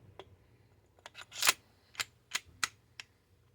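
Sharp metallic clicks and snaps from a striker-fired semi-automatic pistol being put back together, about seven distinct close taps spread unevenly over a few seconds, with a quiet background between them.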